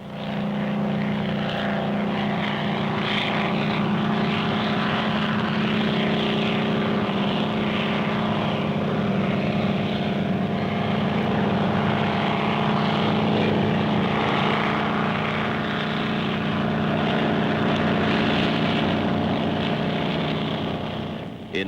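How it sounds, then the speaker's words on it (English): A steady, droning rotor and engine roar holds at constant loudness throughout, with no pauses or change in distance. "This helicopter can lift, carry and land the vehicle effortlessly."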